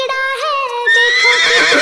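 An Arabian horse neighs loudly and close in a children's rhyme, a shrill whinny with a quavering, falling pitch that rises into a brighter, rougher cry.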